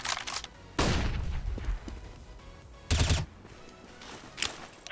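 Flashbang grenades going off in a video game: a sharp loud blast rings out, then a second burst a couple of seconds later, with fainter pops and crackles between them and no talk.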